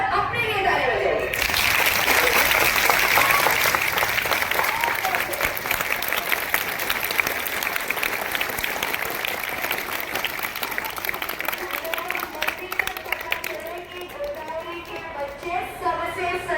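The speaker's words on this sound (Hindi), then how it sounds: "एक बार अपने लिए ताली बजाइए।" An audience at a school commemoration of Guru Tegh Bahadur's 350th martyrdom anniversary claps for itself, sustained loud applause from a crowd that fades slightly toward the end, with a speaker talking over it.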